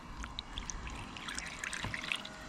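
Water flushes through the windscreen drain of a Mercedes W201, a faint, steady trickle and dribble with scattered small drips and no voices.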